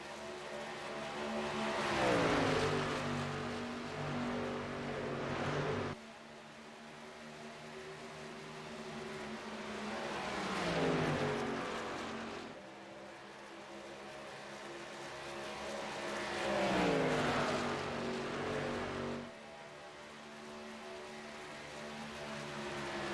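Racing trucks of the Truck Series at Chicagoland Speedway roar past in repeated waves, each engine note swelling loudly as the pack nears and then falling away, with the cycle repeating several times and no voices.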